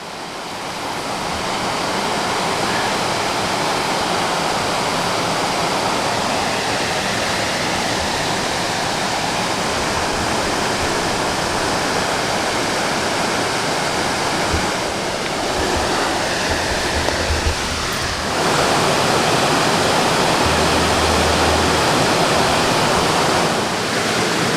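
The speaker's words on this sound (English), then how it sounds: "it's a nice little falls" Small waterfall in Jefferson National Forest at low water, a steady broadband rush of falling water heard up close and fairly loud, continuous throughout with no voices.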